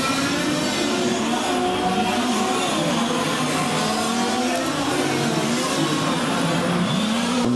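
Touring cars race along a circuit at a European championship event, engines droning steadily at high revs with a constant wash of noise and shifting engine tones throughout, no clear pauses.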